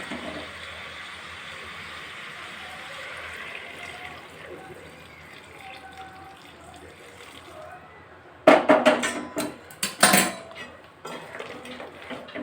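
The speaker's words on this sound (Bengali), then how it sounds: "এবার আগে থেকে গরম করে রাখা জলটা চিকেনের মধ্যে দিয়ে দেবো।" Pre-heated water is poured into chicken cooking in a pot, with a faint liquid wash under a quiet kitchen hum followed by a few sharp metallic clanks of utensil against pan.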